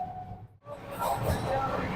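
Duronto Express passenger train running at speed, a steady rumbling rush of wheels and carriage noise that briefly dips, then swells louder and brighter.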